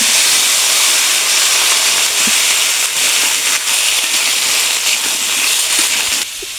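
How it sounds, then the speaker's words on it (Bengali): Chopped ash gourd hitting hot oil sends up a loud, continuous sizzling hiss with scattered crackles, holding steady for several seconds before dropping slightly at the end. "কেটে রাখা চাল কুমড়োটা দিয়ে দেবো।"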